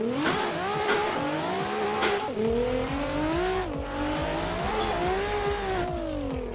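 A Nissan 400Z drift car on a test run at Road Atlanta for Formula Drift, its engine revving hard and steadily with rising and falling pitch while the tires squeal continuously, loud and close.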